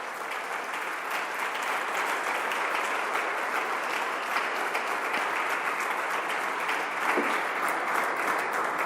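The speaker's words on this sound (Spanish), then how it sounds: "dale fuerte el aplauso al Señor" A church congregation at a Spanish-language Christian service claps together in a loud, sustained wash of applause that stays even and continuous for about nine seconds, with no speech over it.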